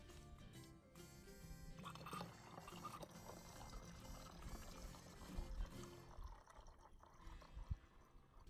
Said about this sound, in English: Dirty water, filter. Dirty water, filter,